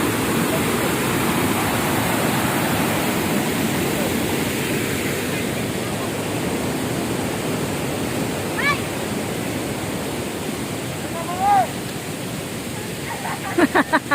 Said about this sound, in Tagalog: Nangisog ang sapa.